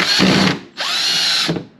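Two bursts from a power drill whirring at high speed, close and loud, separated by a brief pause, with no voices, while removing the air intake on a sixth-generation Chevrolet Camaro.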